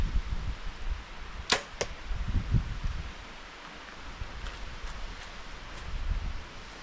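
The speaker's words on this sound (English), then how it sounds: "I packed my bag and just gonna shoot my bow and see what happens." An archer in snowy Montana backcountry shoots a bow outdoors: two sharp twangs and whooshes of released arrows in quick succession, close, over light wind and rustling.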